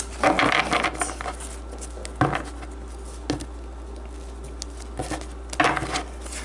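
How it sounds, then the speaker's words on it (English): Tarot cards drawn and handled during a reading, giving a few soft papery slaps and shuffles in scattered clusters, close and fairly quiet, with no talk over them. "So I'm going to draw some tarot cards to get a bit more information about this"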